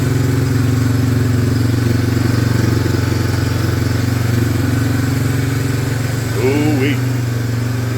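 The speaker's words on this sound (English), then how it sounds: "Got that long, high idle." The engine of a 1995 Honda Fourtrax 300 ATV, revived after sitting 15 years, runs at a steady high idle with a loud, even drone close by, and a brief voice breaks in near the end.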